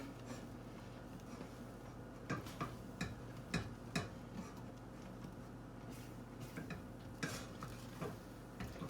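A spoon scrapes and clinks against a pot while stirring a thick popcorn ball sugar mixture, irregular taps and scrapes close by over a steady low background hum.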